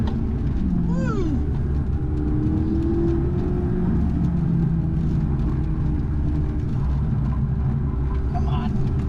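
A McLaren MP4-12C sports car runs an autocross course, its engine droning loud and continuous from inside the cabin with shifting pitch, and a brief tire squeal near the start.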